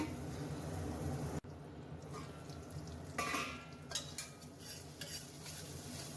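Roasted masala with nearly cooked peas stirred in a pan, a scraping spoon working steadily with soft clinks and a faint sizzle, close and fairly quiet, with no talking.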